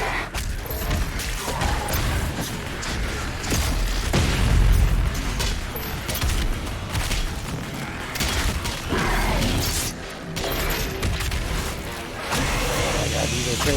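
Loud, booming explosions and heavy blasts from the DOOM Eternal shooter, with dense continuous mechanical din and rumbling thumps throughout, peaking in a deep boom midway.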